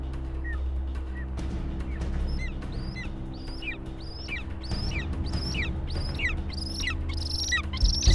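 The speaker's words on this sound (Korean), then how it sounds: "사냥꾼이 신호를 보내자 검독수리가 날아오른다." A golden eagle launching from a hunter's signal in wintry Kyrgyzstan lets out a rapid series of high, piercing chirping yelps, loud and close, over a constant low hum, with no one talking.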